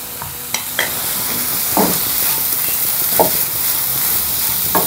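Spring roll vegetables cook over a high flame with a loud, steady sizzle, broken by a few scrapes and taps of a utensil against the pan, close up and without talk.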